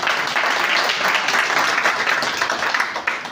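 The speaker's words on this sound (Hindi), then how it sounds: "इनके लिए जोरदार ताली।" Loud, full applause from a seated audience during a motivational lecture, a dense burst of clapping at steady strength for a few seconds with no talk over it.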